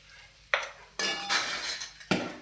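Cooked rice tipped into a pan of hot tempering and stirred, giving a few separate scrapes and sizzling bursts with short quiet gaps between them, close and moderately loud.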